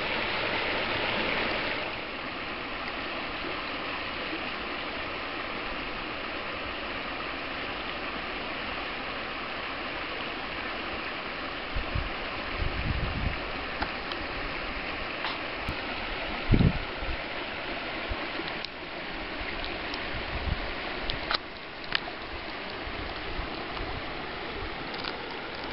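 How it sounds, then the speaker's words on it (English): River flowing at Mono Hot Springs, a steady broadband rush of water heard up close throughout, with a few brief knocks and bumps partway through. "here we are, Mono Hot Springs, right along the beautiful river"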